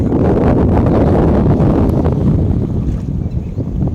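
Water washes and splashes steadily, a continuous broadband rush with gusty wind noise over it and no voices.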